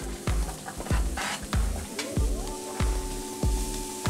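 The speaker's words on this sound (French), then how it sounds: "Et là, on va faire suer nos poireaux." Leeks sweating in melted butter in a frying pan, a soft continuous sizzle broken by regular low thumps as a utensil stirs and knocks the pan, close up with a faint background music tone.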